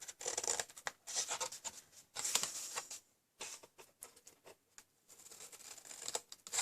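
Scissors snipping through cardstock while crafting a Stampin' Up book box for A6 cards and envelopes, a series of close, crisp cutting bursts separated by short quiet gaps, no talking.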